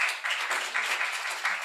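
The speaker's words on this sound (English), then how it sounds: "So big round of applause for our two members up here." Audience applause at a symposium on Africentric education, a steady, even wash of many hands clapping at moderate volume, continuous and without voices.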